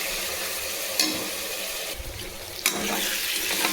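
Eggplant frying in oil and ghee in a pan, a steady broad sizzling hiss throughout, broken by a couple of brief louder stirring knocks.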